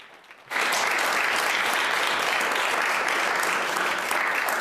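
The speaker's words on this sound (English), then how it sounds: "clapping." Applause in the Senate chamber in Ottawa bursts in abruptly after a quiet moment and continues as dense, sustained clapping from many people, loud and even for several seconds.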